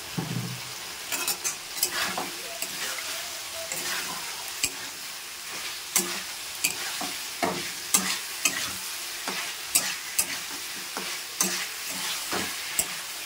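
Steady sizzling of fried cauliflower and potatoes in a pan, with repeated scraping clicks of a spatula stirring at an uneven rhythm.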